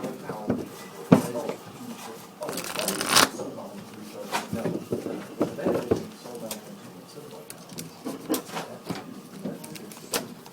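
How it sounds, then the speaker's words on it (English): Players shuffling card decks at a Magic: The Gathering finals match, with repeated riffling and soft card snaps in irregular bursts, close and moderately loud, with people talking in the background. "Each players are shuffling their respective decks."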